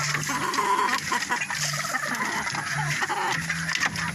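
Several chickens cluck and murmur close by in a steady, overlapping chatter, with occasional louder squawks.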